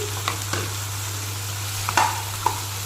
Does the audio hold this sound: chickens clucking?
no